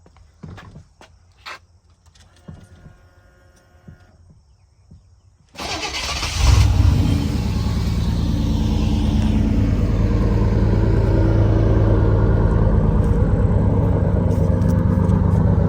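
Quiet clicks and shuffling, then an old truck engine that had sat unused for a long time cranks and roars to life, settling into a loud, steady rumbling idle.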